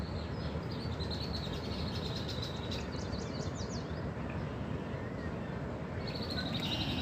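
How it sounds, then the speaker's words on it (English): Birds chirping in a field recording, faint high twittering calls and short trills scattered over a dense steady wash of outdoor noise, no talking. "now the birds come rushing in slowly"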